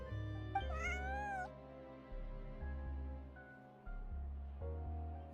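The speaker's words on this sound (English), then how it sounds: "Good kitty." A cat meowing in Genshin Impact, one clear rising meow near the start over a steady soft game music bed, with no voices.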